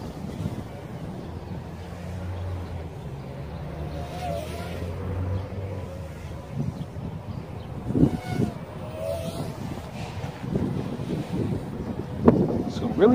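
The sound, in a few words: strong wind blowing on the microphone outdoors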